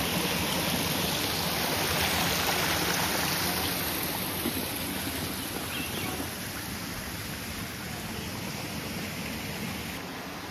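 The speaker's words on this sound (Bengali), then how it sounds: "ভেতর ভেতর দিয়ে একটা ঝর্ণা যাচ্ছে" A mountain stream flows through a Japanese-style tea garden high in the hills, a continuous broad rushing of water that stays close and even, easing slightly toward the end, with no speech.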